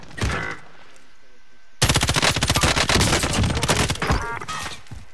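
Gunfire in a Warzone trios match: a short burst of shots, a quiet pause, then a long loud rapid automatic volley that rattles on for several seconds before tapering off.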